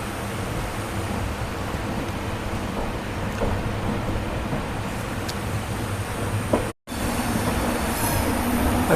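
Jan Shatabdi Express rumbling steadily along the railway track toward Ekta Nagar, heard from inside the train as a continuous broadband roar with faint wheel squeal and a brief dropout near the end.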